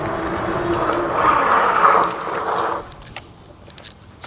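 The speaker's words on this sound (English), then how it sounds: "We'll stop at this power line and see how the brakes work." A TST Defender electric bike rolls along with steady tire and wind rush, then quickly brakes to a stop, leaving a quiet outdoor background with a few faint clicks and ticks.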